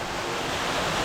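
Small cascade of a creek pouring over a vertical, slick rock face into deep water, a steady, close, unbroken rush of falling water with no voices.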